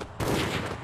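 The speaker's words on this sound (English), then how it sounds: "I can hear them shooting." Rapid gunfire in the video game Fortnite, a dense continuous burst of shots lasting under a second, loud and close.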